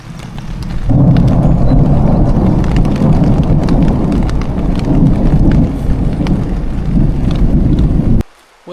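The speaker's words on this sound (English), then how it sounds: "a thunder and lightning storm." A summer thunder and lightning storm at a riverside hammock camp in the Lake District: loud, steady downpour with deep rumbling thunder that continues throughout, then cuts off abruptly near the end.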